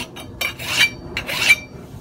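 A hand scraper rasps across sanded epoxy fairing compound, knocking down high points in repeated strokes, each a short gritty scrape with brief pauses between, close and fairly loud with no talking.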